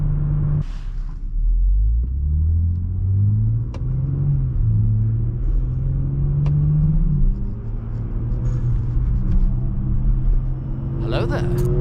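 Stock exhaust of a 2018 BMW X3 M40i with the B58 engine, rumbling steadily while driving, with rising and falling drone as it shifts through gears, heard loud and close throughout; a voice talks over it.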